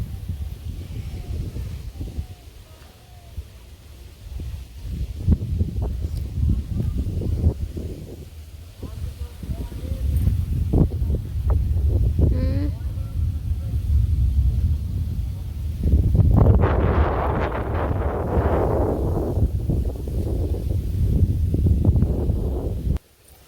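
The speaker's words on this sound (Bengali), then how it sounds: "বাড়িতে অবশ্যই বুঝতে পারবেন যে কতটা আর কি বাতাসি হয়েছে" Strong wind blowing through a rice field, buffeting and roaring in gusts, with rustling and low rumble throughout; it swells noticeably near the end.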